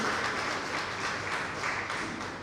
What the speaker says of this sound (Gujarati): તો પહેલી તાળી મારે એમના માટે પાડવી છે